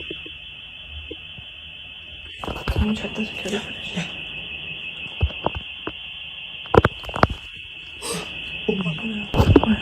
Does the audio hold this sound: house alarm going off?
yes